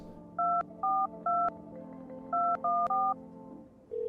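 A sequence of telephone keypad tones dialing a number inside a horror video game: six crisp dual-tone beeps in two quick bursts of three, followed by a steady ringback tone starting near the end, heard alone without talk.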